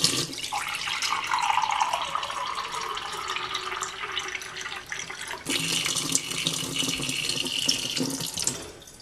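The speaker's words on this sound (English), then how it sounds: "I need to fill this water up" Water runs steadily from a tap into a bottle, a close, moderately quiet rushing stream that shifts in tone partway through as the flow or filling changes.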